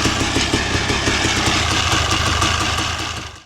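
A 1991 Honda CRM 250 motorcycle engine runs with a balance-shaft noise, a loud, close, rapid ticking knock over a steady idle drone that fades away at the end.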